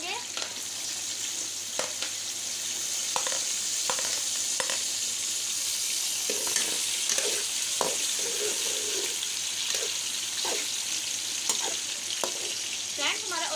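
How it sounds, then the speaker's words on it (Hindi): Onions frying in hot ghee with a steady broadband sizzle, while a spoon stirs and scrapes the pan in intermittent clicks and knocks, close and continuous with no talking. "अब हम इसके अंदर प्याज ऐड करेंगे।"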